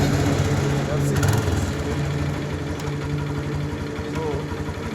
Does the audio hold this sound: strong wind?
no